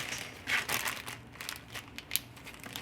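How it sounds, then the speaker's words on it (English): Romaine lettuce is pushed into a Ziploc plastic bag, giving soft, irregular crinkling and rustling bursts of plastic and leaves, fairly quiet and close, with no speech. "I'm going to put the rest of the romaine in a Ziploc and have it for lunch tomorrow"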